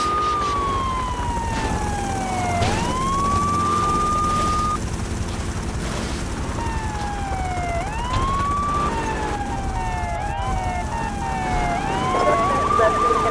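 A police car siren in GTA 3 wails loud and close, rising and falling in repeated sweeps over a steady engine drone, with a brief radio voice.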